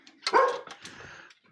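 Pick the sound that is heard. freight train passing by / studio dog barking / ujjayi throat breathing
studio dog barking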